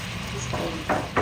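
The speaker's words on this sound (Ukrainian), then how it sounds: "Поки наша цибуля з морквою готується" Chopped onion and carrot frying for plov, a steady close sizzle with stirring scrapes that come in short bursts near the end.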